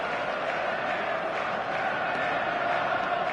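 Stadium crowd roaring in the PES football video game on a clear evening, a dense, steady wall of cheering noise that stays loud and constant throughout with no break.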